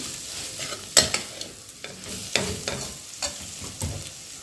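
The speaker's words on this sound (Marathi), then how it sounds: "मसाला एक मिनिट भाजून झाल्यावर ओके मसाला छान भाजला" Spice masala being dry-roasted and stirred in a pan for a spicy village-style mixed-vegetable bhaji, a soft sizzle punctuated by a sharp clank and several scraping strokes of the spoon at uneven intervals, close up, no talk.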